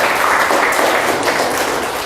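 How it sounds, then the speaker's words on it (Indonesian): Students in a classroom applaud a classmate after her presentation with a brief, loud burst of dense clapping that fills the short moment. "beri tepuk tangan untuk Sherin"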